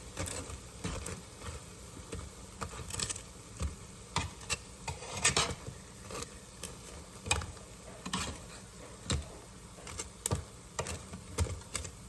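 Chicken wings being turned in an air fryer basket for Hawaiian-style wings: a steady low hum with repeated sharp clicks and scrapes of tongs against the metal basket, spaced irregularly across the whole stretch, close by, with no talk.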